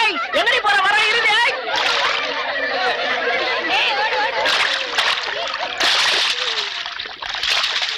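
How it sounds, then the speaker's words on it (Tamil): Water is poured and splashed onto a man in a Tamil film scene, sloshing bursts mixed with lively chatter and laughter from several people. "என் மேல வந்து தண்ணி ஊத்துறா"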